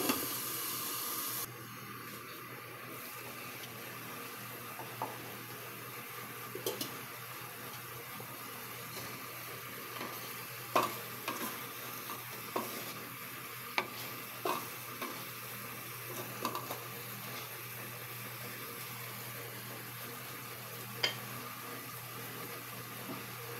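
Food sautés in a pan before bitter gourd (ampalaya) goes in, a steady soft sizzle and hiss with scattered light clicks and scrapes of stirring, moderately close and continuous with no talk.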